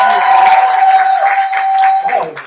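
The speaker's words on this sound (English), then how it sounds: "Keep that round of applause going for Sarah J." Audience at the Berkeley Poetry Slam clapping and cheering after a poet's piece, with a sustained musical tone running beneath the applause before it trails off.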